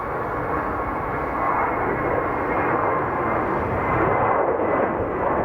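Steady broadband roar of a DC-10 jet aircraft at Chicago O'Hare, continuous and fairly loud throughout with no talk over it.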